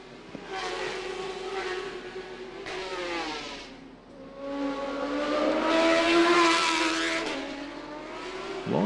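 Racing motorcycles during Macau Grand Prix qualifying, a rider tucked close behind another's rear wheel, engines screaming past in rising and falling waves at high revs, loud and continuous with no talk.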